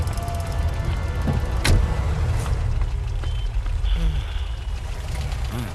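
A car pulls away and backs up, its reversing alarm beeping in a steady repeating pattern over a continuous low engine rumble, loud and close, with a brief sharp hiss partway through.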